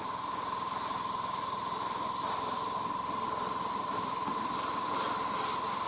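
An airbrush sprays a second coat of paint onto a 1:35 ICM Panzerspähwagen P204 (f) scale model, a steady close hiss that continues evenly without a break.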